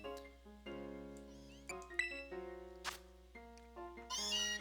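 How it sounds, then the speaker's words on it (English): Galarian Meowth, a steel-type Pokémon, cries in Pokémon Scarlet with a series of short, bright, tonal meow-like calls, rising and falling in pitch, rather loud and close, alone against steady game music. "This Meowth is a Galarian Meowth."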